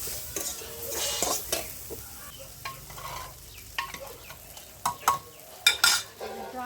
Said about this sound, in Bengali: হলুদ দিয়ে দিলাম, ভালো করে কষিয়ে নেব।